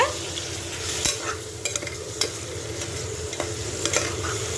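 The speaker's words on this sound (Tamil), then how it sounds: "வெங்காயத்தோட சேர்த்து நல்லா பெரட்டி விட்டுக்கோங்க" Mutton liver and onions frying in a pan, Virudhunagar-style chukka, with a utensil stirring through them: a steady close sizzle broken by several sharp scraping clicks, no talk.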